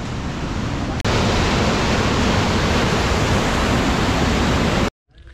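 Overflow water rushes past the weir at Head Jumrao, a Pakistani headworks built in 1889, as a loud, steady roar heard close up that cuts off abruptly near the end.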